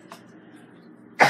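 A single sharp, loud cough bursts out close by at the very end, after a faint breathy huff near the start and a steady low hum in between.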